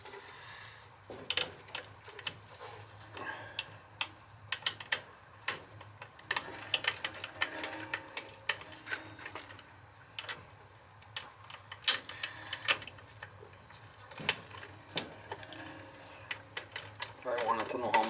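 Socket wrench ratcheting on a B&G circulator pump, giving rapid bursts of sharp mechanical clicks and ticks through the whole span, close by, with a low steady hum beneath.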